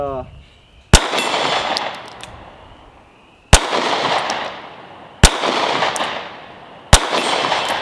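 Sig P365 Gen 2 compact pistol fired at a range, four loud sharp shots spaced irregularly about two seconds apart, each followed by a long ringing decay, with no talking.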